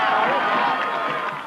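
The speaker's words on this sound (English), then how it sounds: "the crowd noise swelled with the group that followed the firefighters" A parade crowd on the sidewalk cheers and roars in a dense, steady wash of voices, loud and close throughout, easing slightly at the very end.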